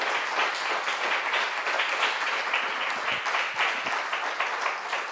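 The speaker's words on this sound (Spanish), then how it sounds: "yo os pediría un aplauso para ellos por agradecerles su trabajo" An audience at a talk on prisons and repression in Spain gives sustained, dense applause, steady and fairly loud throughout.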